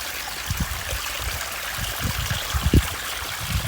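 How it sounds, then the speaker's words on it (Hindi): Water gushes and gurgles out in a steady, close flow, with low bubbling surges and a few louder splashes toward the end, no voices heard. "ये पानी निकल रहा है।"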